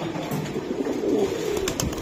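Pigeons cooing in a loft of racer pigeons, soft low repeated coos close by with faint background noise and no speech.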